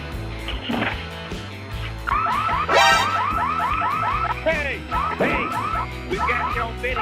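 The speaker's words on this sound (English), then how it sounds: "The anti-theft alarm did an excellent job of alerting everyone." Car anti-theft alarm going off with loud, warbling electronic sweeps and rapid cycling siren tones, repeating in shifting patterns over several seconds amid street noise.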